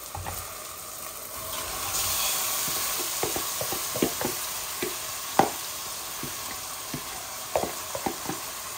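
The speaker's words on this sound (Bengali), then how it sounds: "আমার পেঁয়াজটা হাফ কুক হয়ে গেছে। আমি এখন চিকেনটা দিয়ে দিচ্ছি।" Chicken pieces tipped into a pan of half-cooked onions set off a steady sizzle, with scattered sharp clinks and scraping taps from stirring over the continuous frying hiss; no talking.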